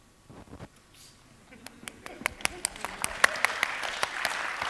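Applause from a conference audience at a GopherCon EU 2018 software talk, starting as a few scattered claps and swelling into steady, fairly close clapping that fills the room by the end.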